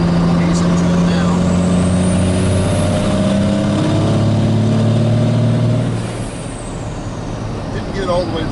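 A Cummins 12-valve diesel truck with an added boost controller accelerates, heard from inside the cab: a loud, deep engine drone climbs steadily in pitch for several seconds, then eases off as the throttle lifts, with turbo whine riding over it.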